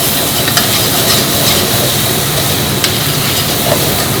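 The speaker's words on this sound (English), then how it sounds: "We're going to add our onions into this. We're going to let those sweat a little bit." Onions and vegetables sweating in a pot, giving a loud, continuous sizzle with a broad rumbling hiss and occasional faint clicks from stirring, close up and unbroken by speech.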